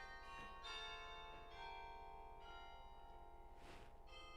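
Church bells ring steadily over a harbor city in the Netherlands, a sustained resonant chime with overlapping strikes, heard from a moderate distance and fairly faint.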